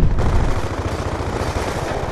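Pistol gunfire in Black Ops 2 online multiplayer, a dense, rapid burst of close shots blurring into a continuous loud rattle.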